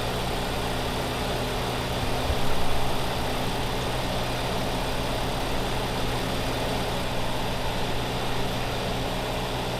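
A small tractor engine in the Farming Simulator 2015 video game drones steadily at a low idle-like pitch, a constant mechanical hum with a brief swell around the middle, heard alone without speech.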